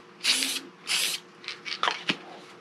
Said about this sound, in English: But I'm just going to spray a little on here.